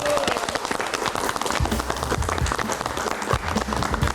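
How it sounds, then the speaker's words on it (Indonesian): A studio audience on a late-night live show claps in loud, continuous applause with cheers mixed in, while someone talks over the clapping. "Boleh tepuk tangannya."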